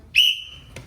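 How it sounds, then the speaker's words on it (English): One short, loud, shrill whistle blast during an MMA class drill for kids and adults, followed by a faint brief sound. "One whistle."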